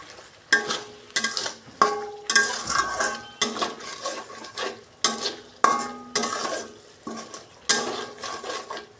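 A spoon scrapes and clinks rhythmically against a metal pan as fried coriander is stirred into a sizzling curry, a steady series of close knocks over a soft frying hiss, with no talking.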